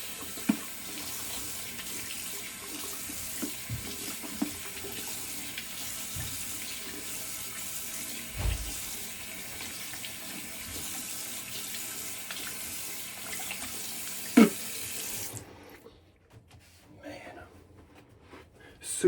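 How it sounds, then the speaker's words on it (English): Cold tap water runs steadily into a sink for rinsing after a wet shave with a Muhle R41 safety razor, a continuous close splashing hiss with small clicks that cuts off abruptly near the end. "cold water to rinse this off."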